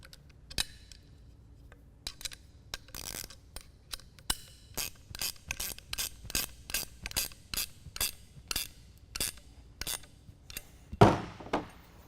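A 7/16 wrench clicks in a steady series of sharp ratcheting strokes while tightening the handle bolt on a Pioneer rotovator, close and distinct, with a louder metallic clunk near the end.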